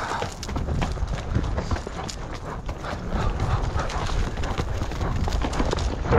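A tired horse gallops after a runaway black cow during a cattle drive, its hooves pounding in a quick, uneven rhythm over rough ground, loud and close, with some rustling and no clear talking.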